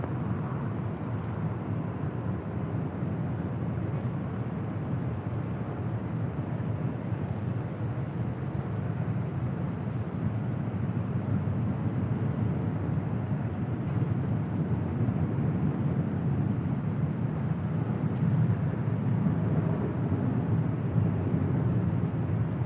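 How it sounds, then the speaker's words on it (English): United Airlines Boeing 737-800 jet taking off at LAX, a steady broad low roar of jet engines that holds for the whole stretch, distant to moderate, with no voices over it. "That is United Airlines Flight 2445 heading to SFO in the 737-800."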